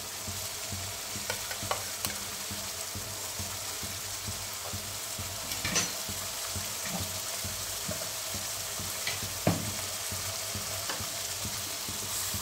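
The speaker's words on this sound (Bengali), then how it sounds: "একটু নেড়ে নিই, মশলাকে একটু কষিয়ে নিই।" Spices and yogurt fry in a pan with a steady, close sizzle, and a spoon scrapes and stirs through it in scattered knocks across the whole stretch, with no talking.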